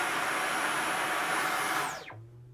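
A Dyson V11 cordless vacuum runs on medium with a steady broadband whoosh and a high motor whine, then shuts off as the whine drops sharply, leaving a low residual hum.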